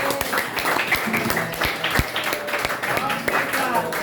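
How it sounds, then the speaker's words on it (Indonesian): A classroom of pupils claps for themselves, giving a sustained patter of many hands across the whole stretch, fairly close and loud, with a voice talking over it. "boleh tepuk untuk diri sendiri"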